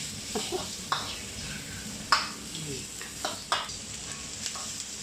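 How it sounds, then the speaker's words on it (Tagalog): Onions sizzling in a hot pan, with a spatula scraping and stirring in scattered clicks and scrapes over a soft, steady frying hiss, heard up close and fairly quiet. "Kailangan maluto mo talaga ang sibuyas."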